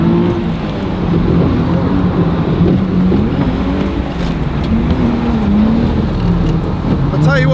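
A car at Drift Week howls through corners, its engine rising and falling as it slides around bends, loud and close with tyre noise, while someone talks over it.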